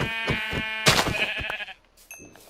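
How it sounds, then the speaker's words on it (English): A sheep in the Minecraft video game bleats several times in quick succession, loud and close, with short repeated cries that stop before a brief fainter sound at the end. "I thought it was a brown sheep here."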